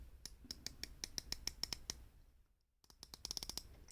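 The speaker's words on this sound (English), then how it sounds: "So it's kind of a deep thunking click." A Phoibos Apollo 200m dive watch with a Miyota 9015 movement has its 120-click bezel turned, giving crisp, close clicks in two quick rhythmic runs separated by a brief quiet pause.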